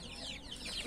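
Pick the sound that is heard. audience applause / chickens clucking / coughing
chickens clucking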